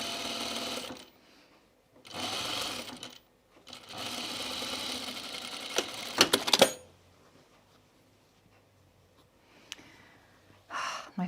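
Domestic sewing machine stitching a Fairfield button-up shirt at the placket, running in three or four close, steady mechanical bursts with quiet pauses between, ending in a short final run.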